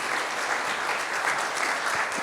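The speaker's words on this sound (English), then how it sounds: "another round of applause for them" Sustained audience applause at a finance conference session, a dense, even wash of many hands clapping with no pauses and only faint voices underneath.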